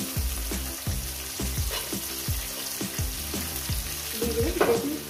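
Sliced potato and onion sizzle together in hot oil in a pan, a steady close frying hiss punctuated by regular scraping thumps of a spatula stirring, with no talking.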